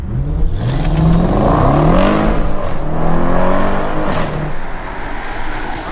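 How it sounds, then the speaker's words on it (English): A tuned ABT Audi RS6 with a 4-litre twin-turbo V8, up about 200 brake horsepower, launches hard from standstill, its engine note climbing loudly through rapid gear changes with rising sweeps, then tailing off into road roar. "I'm about to do a launch control"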